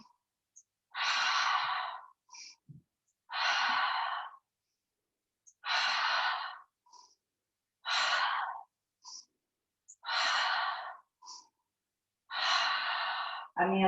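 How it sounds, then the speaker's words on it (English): During a hip-opening yoga class, slow audible breaths repeat about every two to three seconds, each a soft airy inhale or exhale close to the microphone, separated by quiet pauses. "Breathing in."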